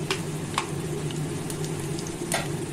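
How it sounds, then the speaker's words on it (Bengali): Whole cumin seeds and dried chillies sizzle in hot oil in a pan, giving a steady close crackle with small popping spits throughout and no talking. "ওই তেলের মধ্যে আমি গোটা জিরে আর গোটা সাদা জিরে আর শুকনো লঙ্কা আমি তেলে দিয়ে দিলাম।"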